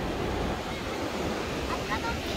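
Ocean waves at a beach roll and wash steadily with a broad rushing roar and some wind buffeting, loud and close throughout.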